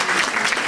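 A school event audience breaks into a short, dense burst of applause, many hands clapping together loudly and close.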